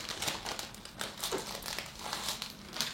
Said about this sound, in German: kann ich das hier auspacken